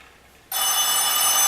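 A telephone rings with a steady electronic trill that starts abruptly partway through and continues loud and constant to the end, with no talk over it.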